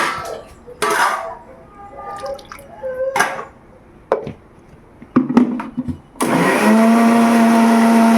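A kitchen mixer grinding coconut into a smooth paste starts up after a few scattered clatters of utensils and dishes, then runs as a loud, steady whirring drone to the end.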